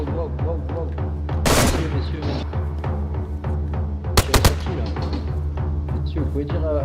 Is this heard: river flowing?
no